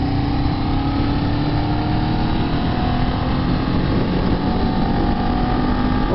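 A Kawasaki Z400 motorcycle accelerates in sixth gear on a country road leaving town, its engine a loud, steady drone with slowly rising pitch under heavy wind rush.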